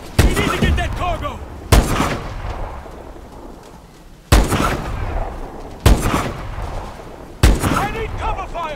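Heavy gunfire and blasts in Call of Duty: Advanced Warfare, sharp loud bursts every second or two over a rumbling battle bed, with shouted voices between the shots.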